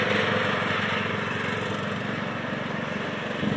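A lawn mower engine runs at a steady pulsing drone, loud and close, holding constant throughout with no voices.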